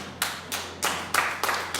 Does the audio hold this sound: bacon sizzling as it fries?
no